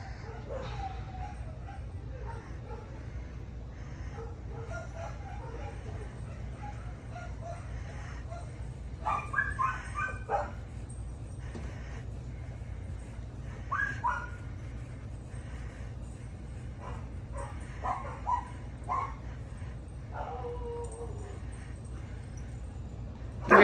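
Dogs at a kennel give occasional short yips, barks and whimpers, fairly quiet and in small clusters over a steady low background hum, with no talking.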